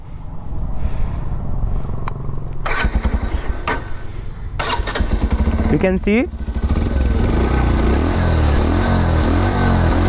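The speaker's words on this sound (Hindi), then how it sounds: "मैं आपको बाइक का एग्जॉस्ट नोट सुना देता हूँ" A 2021 Bajaj Pulsar 125 motorcycle engine revs sharply a few times, then settles into a loud, steady throbbing exhaust idle, with a voice speaking briefly over it.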